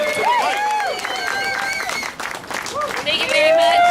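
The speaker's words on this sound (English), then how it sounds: "Please give a round of applause and welcome Susan to the mic." An audience at a school-funding protest rally welcomes a speaker with clapping, whoops and cheering voices that hold fairly loud throughout, dipping briefly midway.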